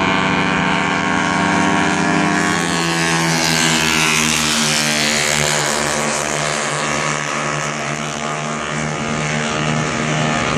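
150cc superbike motorcycles race down the main straight in a compact pack, a loud, continuous blend of high-revving engines held steadily close by.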